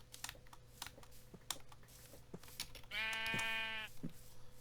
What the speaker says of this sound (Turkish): Ha koyun var.